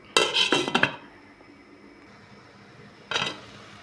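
A metal lid rattles and clanks onto a pot of fish sinigang, a quick cluster of close metallic clinks, followed by quiet and then one more short clatter of the lid settling.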